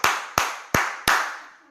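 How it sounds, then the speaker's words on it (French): An audience at a back-to-school fundraising collection claps in four loud, sharp, evenly spaced beats, each ringing out briefly before the next. "On va applaudir."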